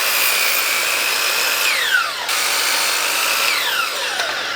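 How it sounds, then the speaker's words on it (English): Miter saw cutting wood blocks, a loud high whine that drops in pitch twice as the blade bites through the wood, two cuts in close succession with no talking. "We're gonna take it over to the miter station and cut 3 blocks out of it."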